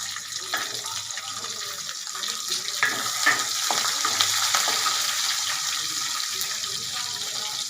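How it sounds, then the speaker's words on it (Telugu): Onions, green chilies and ginger fry in a pan as a base for semolina upma, making a continuous hissing sizzle with occasional light pops and no speech. "ఉల్లిపాయ, పచ్చిమిర్చి, అల్లం అంతా వేగిపోయిందండి బాగా."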